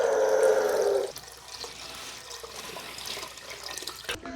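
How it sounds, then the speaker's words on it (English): Water poured from a tap-like stream into a soup pot of boiling chicken noodle broth with vegetables, a steady loud rushing flow for about a second that cuts off, followed by quieter handling noises and a clunk. "I'm gonna go and put a pretty good amount of water back in there."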